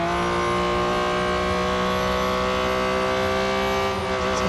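A Porsche 718 Cayman GT4 Clubsport in the Real Racing 3 video game holds a loud, steady engine drone at high revs, its pitch shifting only slightly as it races on without pause.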